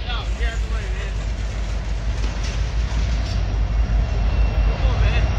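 A Norfolk Southern freight train rolls past with a mid-train DPU locomotive, giving a loud, steady rumble and rail clatter close by, with a voice talking briefly over the noise.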